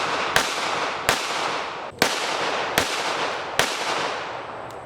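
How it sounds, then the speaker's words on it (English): Five sharp pistol shots from a .22 Magnum fired one-handed ring out at uneven intervals, each crack trailing off in a short echo. "Shooting it one hand."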